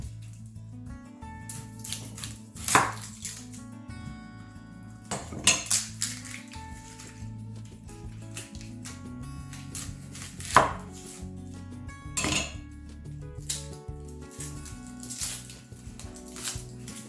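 Knife chopping spring onion into small pieces on a board for a salad, a steady series of crisp close taps with a few louder thumps, alongside clinking of dishes and cutlery.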